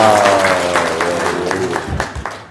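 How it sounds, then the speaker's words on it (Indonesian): A crowd claps and applauds, a dense patter of hands that starts full and thins out, with a falling tone fading underneath. "Tepuk tangan dong."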